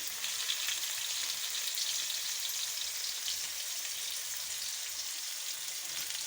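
Cumin seeds, onion and garlic fry in a hot pan, giving a steady, dense sizzle that stays at an even level throughout with no talking.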